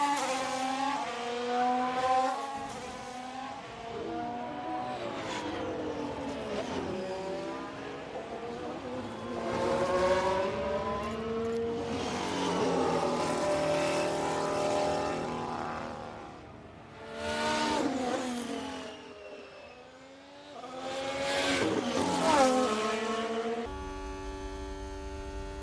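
Formula 1 race cars from the F1 Manager 22 video game roar past in a long series of high-pitched, rising and falling engine whines, loud and continuous with brief dips as each car passes.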